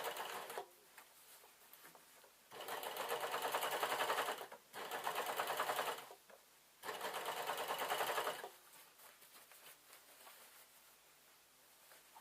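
Sewing machine stitching through layered denim and tartan fabric, running in three sustained bursts of steady mechanical whirring separated by short pauses with faint handling noise between, close and clear.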